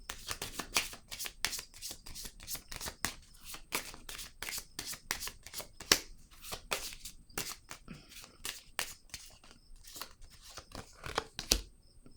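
Tarot cards are shuffled and handled, with a rapid series of crisp riffling snaps and flicks close to the microphone, fairly even in rhythm with a few louder slaps.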